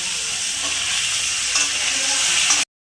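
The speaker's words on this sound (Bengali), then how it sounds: "আলু কলাগুলো ভাজা হয়ে গেছে" Potato and raw banana pieces fry loudly in hot oil for a hilsa fish curry, a dense, continuous sizzle and hiss with occasional stirring that cuts off abruptly near the end.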